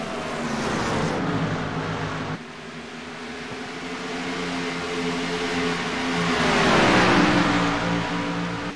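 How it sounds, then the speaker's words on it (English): Stock cars in a sim racing game at Chicagoland roar down the straightaway, a steady loud engine drone with a rising, sweeping pitch as the cars pass close by, running continuously without pause. "These cars thundering their way back down the straightaway here."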